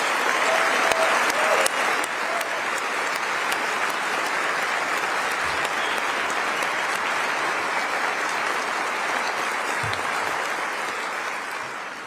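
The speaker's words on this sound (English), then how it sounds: "Can we give him another round of applause?" A large audience applauds steadily at a Utah governor's inauguration, dense clapping sustained for about twelve seconds and easing slightly toward the end.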